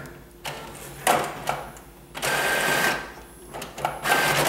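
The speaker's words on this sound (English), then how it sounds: "And now the color test in duplex 2-sided printing." An Epson WorkForce Pro WF-4630 inkjet printer runs a duplex color print, producing a close mechanical whir with clicks and a sustained rolling feed noise that stops and restarts.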